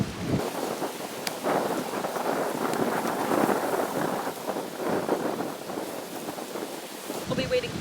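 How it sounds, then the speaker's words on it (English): Wind gusts steadily at a lake shore at Lake Shetek State Park in Minnesota, a broad rushing roar with buffeting on the microphone, loud and continuous. "we're gonna wait for the wind"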